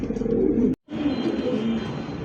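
Two tiger-coloured pigeons with pink beaks, Lahori or Bombay breeds, coo in low, steady, rolling calls close by, with a brief silent gap partway through.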